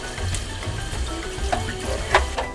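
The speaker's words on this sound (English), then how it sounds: "Next, I'm going to rinse my spinach with cold water" Steady cold running water splashing continuously, with a few brief clinks and rustles as spinach is rinsed underneath.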